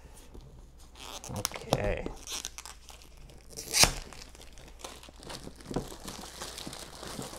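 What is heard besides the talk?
cutting and tearing shrink wrap off a board game box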